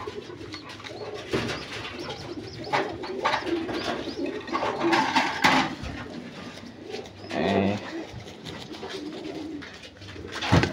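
Satin pigeons coo softly and repeatedly nearby, low rolling calls over a faint background, with occasional wing flutters.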